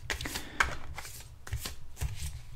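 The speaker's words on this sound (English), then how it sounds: "me to lay down the cards." Wild Unknown Tarot cards laid down and slid across a surface in a quiet, close-up ASMR setting: soft papery swishes and light taps in an uneven rhythm, with no talking.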